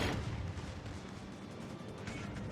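Secondary guns on the battleship Louisiana fire in World of Warships: Legends, a dense rumble of distant booms and muffled blasts throughout, loudest at the start, with no voice over it.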